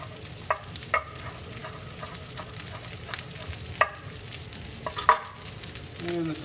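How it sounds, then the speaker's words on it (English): Sauce thickened with cornstarch simmering in a pan in a kitchen, a soft continuous bubbling sizzle with occasional sharp clicks and light stirring taps. "this is coming to a simmer here"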